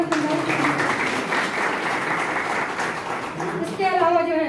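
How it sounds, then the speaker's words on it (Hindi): Audience applause at a teachers' association seminar and school event in Naini Danda, sustained clapping filling the room with voices and a child's speech mixed in near the end. "जोरदार तालियां"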